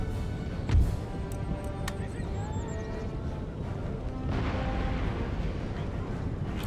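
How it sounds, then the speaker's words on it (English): Cannon and artillery fire in an Empire: Total War battle, with a heavy boom near the start followed by a continuous dense rumble of battlefield noise that swells again toward the end. "What I might be able to do is have those cannons fire onto these Warrior Society."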